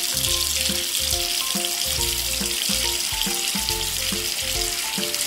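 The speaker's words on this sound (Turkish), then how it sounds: "Hadi kutuyu da yıkayalım." A toy box being washed with water during children's toy play, making a constant splashing, sizzling rush of water under cheerful background music.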